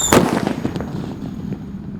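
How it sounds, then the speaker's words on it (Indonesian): A single loud bang of a large Pearl Thunder firecracker up close, followed by a fading crackle and rumbling echo. "di sini ada Pearl Thunder guys yang paling jumbo. Kita dengarkan suaranya."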